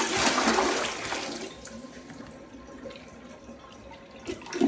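A wall-hung toilet flushes, a loud rush of water that fades into gurgling drainage and quiet trickling, with another splash of water near the end.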